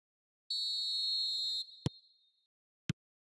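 Referee's whistle blowing for half-time in an eFootball 2025 match: one long steady shrill blast, followed by two sharp short knocks, with no voices.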